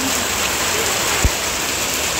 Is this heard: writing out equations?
no